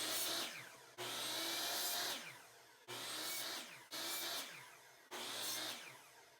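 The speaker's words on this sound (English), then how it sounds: "Now I'm going to use my miter saw to cut where I've marked my lines." A miter saw cutting 1x2 wood pieces: five separate whirring cuts, each spinning up to a loud steady whine and then winding down, repeated in close succession with no talking.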